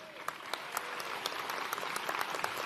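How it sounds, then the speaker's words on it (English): Steady, dense applause fills a graduation ceremony at Salford Business School, many hands clapping together at a sustained level with scattered sharper claps standing out, no voices on top. "I hope there's going to be loads of applause going through this ceremony today because you have earned it"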